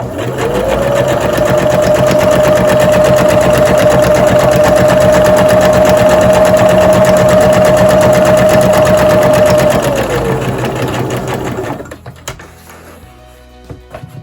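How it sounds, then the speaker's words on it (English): A sewing machine stitches apron seams with a loud, steady whir for about ten seconds, including backstitching, then winds down and stops, leaving quiet handling sounds. "I always backstitch on my seams."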